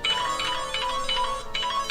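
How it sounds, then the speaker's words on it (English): A phone ringing with a repeating electronic ringtone, several bright pulses in a steady rhythm with a brief gap, clear and close with no talking. "then you'll answer the phone after it rings"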